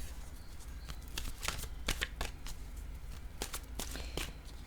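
Oracle cards being shuffled close up, a quick series of crisp riffling flutters and soft slaps that repeat in short bursts over a quiet room.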